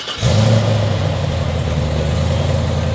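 A Texas Speed 408 stroker LS V8, roughly 6.7 liters, fitted in a BMW X5, catches and then holds a loud, deep, rumbling rev close by with no voices.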